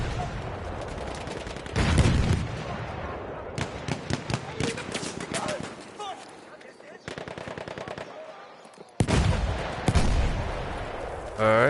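Rapid gunfire from a multiplayer shooter game plays in repeated bursts of automatic fire mixed with single loud shots, some near and some farther off, with short gaps between volleys.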